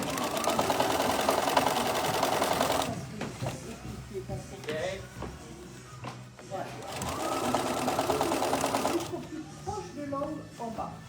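A sewing machine stitches a tote bag with French seams in two sustained whirring runs, pausing between them while a voice talks over the quieter gaps.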